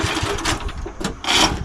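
A vintage small engine chugs unevenly and sputters, failing to catch, its rhythmic knocking faltering as it struggles to keep running, close by with bursts of noise.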